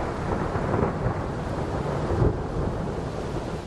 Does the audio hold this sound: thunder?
yes